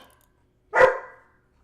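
A single sharp dog bark, fairly close and loud, ringing out briefly against an otherwise quiet background.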